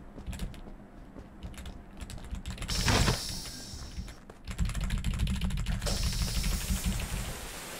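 Rapid clattering of keys on a computer keyboard, continuous and fairly close, with a brief mechanical whir partway through and no voices.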